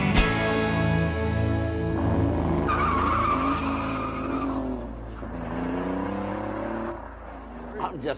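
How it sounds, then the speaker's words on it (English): A rally car engine screams close by, then its tone climbs and falls away as it fades into the distance, with a voice over the drone. "I'm just going to let the engine trail off into the distance."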